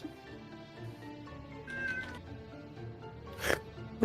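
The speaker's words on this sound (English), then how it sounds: "Can you hear him still? Yes. Meow!" A cat meows several times, with a louder, sharper cry near the end, against a quiet room background.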